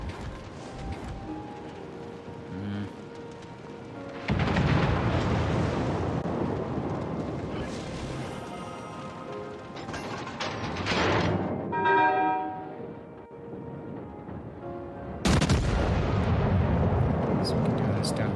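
A British battleship in World of Warships Legends fires armor-piercing rounds from its main battery, giving heavy booming salvos with long rumbling tails at three points and mechanical clanks between them, while players talk throughout.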